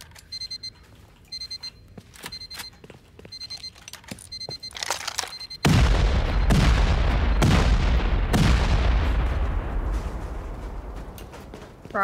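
C4 explosives detonating against sheet metal walls in a survival shooter game, with faint beeping ticks followed by a heavy, loud blast that rumbles on, then further booming explosions.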